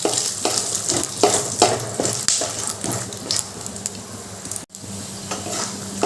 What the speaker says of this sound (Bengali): এবার আমি বাদামগুলো ভালো করে ভেজে নেব।